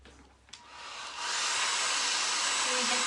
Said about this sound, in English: Grab our hair dryer.